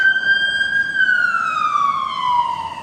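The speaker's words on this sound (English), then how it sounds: "Moment of intention for whomever those sirens are meant for. It looks like the fire truck." A fire district fire truck's siren wails past in the street during a holiday walk, a loud, clear tone that holds steady and then sweeps downward as the truck moves away, with no one talking.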